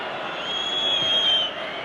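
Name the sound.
football crowd noise at England v USSR match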